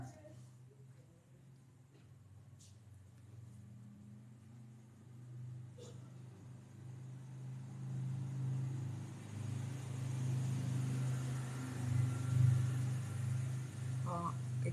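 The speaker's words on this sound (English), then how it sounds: "there's ATVs going by right now." Low engine rumble of ATVs passing outside, distant at first and growing louder and closer toward the end, with a faint voice now and then.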